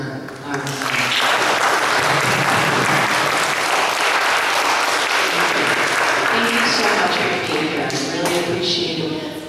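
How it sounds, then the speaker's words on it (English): Audience applause at the close of a community meeting, a dense, loud sustained clapping that swells quickly and holds for several seconds, with voices faintly mixed in. "Let's have a round of applause for our"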